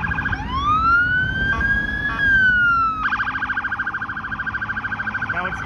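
An ambulance siren wails along a city street in Toronto, near and loud, first a rising-and-falling wail and then a fast yelping cycle, over traffic rumble.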